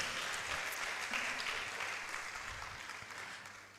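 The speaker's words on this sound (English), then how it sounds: "I think they deserve a round of applause" A seminar audience of college lecturers claps for the speakers, a dense, moderately distant round of applause that slowly tapers over a few seconds.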